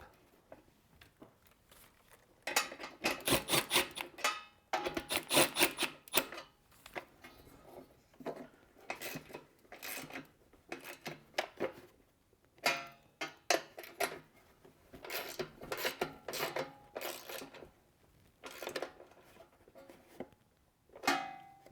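Bolts being reinstalled on a Briggs & Stratton small engine cover, heard as bursts of quick ratcheting clicks and metallic ticks separated by short quiet pauses, close up.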